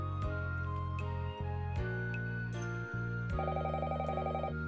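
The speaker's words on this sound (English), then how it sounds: "The shrill ringing echoes loudly in the quiet house." Shrill phone ring echoing through a quiet house in a visual novel game, several repeated electronic ring bursts separated by brief pauses, loud and alone over soft background music.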